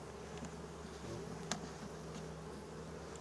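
Honeybees buzzing steadily around a bee emerging from its cell in a rescued hive, a close, continuous insect drone with one brief sharp click midway and no talking.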